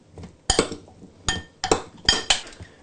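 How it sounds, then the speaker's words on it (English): Kohlrabi chunks tossed with olive oil, salt and a grated clove of garlic in a dish, heard as a few sharp clinks and clatters of utensil against dish in uneven bursts. "these chunks are going to get tossed with some olive oil, some salt, and a grated clove of garlic"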